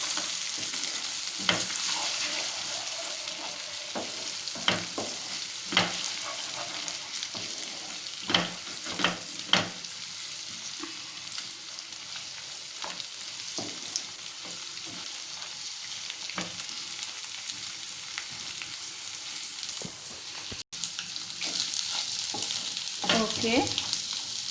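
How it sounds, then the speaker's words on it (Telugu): An egg fries in a pan, a steady sizzle running throughout, broken by repeated sharp scrapes and clinks as it is stirred and turned. "ఎగ్ వేసాను. ఇంకా తిప్పండి దీన్ని."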